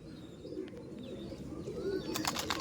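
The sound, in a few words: pigeons cooing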